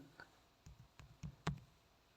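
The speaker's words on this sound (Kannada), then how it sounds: "ಕ್ಲಿಕ್ ಮಾಡ್ತೀವಿ ಕ್ಲಿಕ್ ಮಾಡಿ" A computer mouse clicks about five times, soft and sharp, while someone fills in an online disability bus pass renewal form. The clicks are isolated, faint and evenly spaced, with no voices between them.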